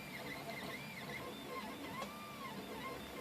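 A 3D printer laying down a test print on frosted glass, its stepper motors whining in short rising and falling sweeps over a steady mechanical hum, close and fairly quiet.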